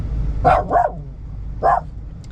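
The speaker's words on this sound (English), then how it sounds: "You think you're going to bark at that guy in the truck next to us?" A dog barks at a truck alongside a vehicle on a Montana drive day: three sharp, close barks, two in quick succession and a third after a short pause, over a low road rumble.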